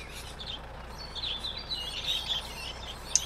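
Small birds chirp faintly in a video game, scattered high tweets over a soft, steady background hum, ending with one brighter chirp.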